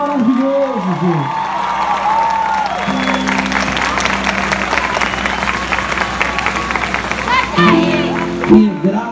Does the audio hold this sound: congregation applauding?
yes